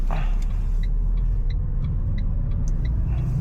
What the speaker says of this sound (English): Now first gear, release it slowly,